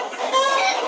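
A KUB breeder hen clucks up close in a short burst, as hens are prepared for shipment.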